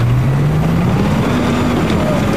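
Helicopter in the video game Battlefield 4 on the Caspian Border map, a loud, dense engine and rotor roar with a slowly rising whine, mixed with other game noise.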